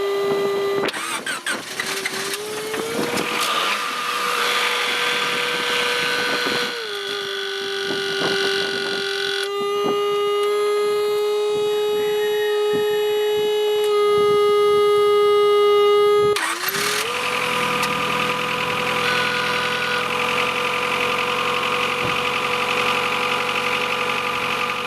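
A car engine cranks with a steady whir, catches and settles into a droning idle, then cranks again for a second start and runs on, loud and close throughout, with no talking.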